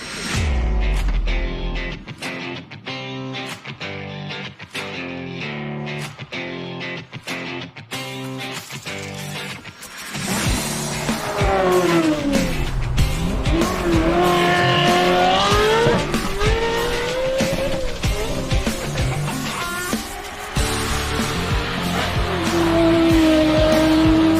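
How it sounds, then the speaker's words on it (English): Ferrari 360 Modena with a naturally aspirated flat-plane crank V8, first rhythmic pulses at idle and gear changes, then loud high-revving acceleration with rising and falling pitch as it drives, close and alone. "Normally aspirated flat plane crank V8, nothing else in the world sounds like this car."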